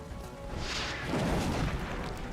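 A steadied rocket fired in XCOM Long War, a dull booming blast that swells and rumbles for a couple of seconds at moderate loudness with no talk.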